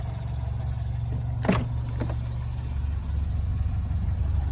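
A small car idles steadily after being jump-started, a low, even engine hum close by, with a brief mechanical click and clunk partway through and no talking.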